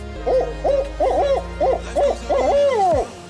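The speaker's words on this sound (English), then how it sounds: "That's how a barred owl does." A barred owl hoots in a rhythmic series of about seven loud, close calls, the last drawn out and falling, with no talk over it.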